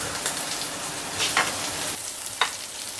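Foie gras, dusted in flour, sizzles steadily in a hot pan as it begins to cook, a continuous close fry with a couple of brief sharper crackles and spits, no talk.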